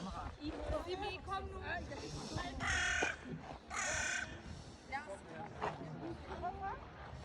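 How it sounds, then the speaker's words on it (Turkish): Crows caw outdoors near Kronborg Castle in Denmark: several harsh, clear calls come in bursts at moderate distance over a steady wash of wind and crowd murmur. "kargamız uçuyor."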